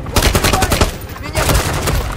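Rapid bursts of gunfire crackle in quick succession, loud and close, with short pauses between volleys, in the video game Call of Duty: Modern Warfare 3 (2023).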